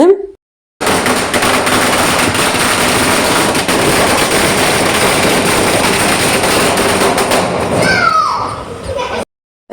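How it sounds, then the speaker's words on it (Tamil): A long, loud string of firecrackers at an ear-piercing ceremony crackles and pops rapidly for several seconds, dense and continuous, ending abruptly. "ஒரு பட்டாசு வந்துட்டு வைக்க ஆரம்பிச்சிட்டாங்க"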